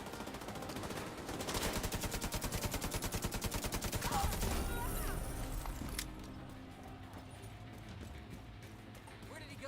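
Rapid submachine-gun fire in The Division 2 rattles in a dense continuous burst for several seconds at close range, then breaks off into quieter game ambience and scattered rattling.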